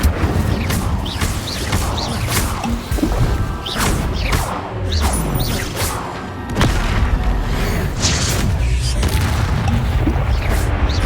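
Spell blasts crash through combat in the Hogwarts Legacy video game, a dense run of repeated booms, whooshes and impacts at a busy uneven rhythm, loud and close, with a voice calling out now and then.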